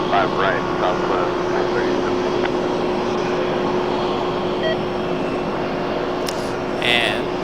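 A Southwest airliner takes off from runway 5 right at Raleigh-Durham airport. Its engines give a steady, broad roar with a low hum that holds throughout, and faint radio voices can be heard in the background.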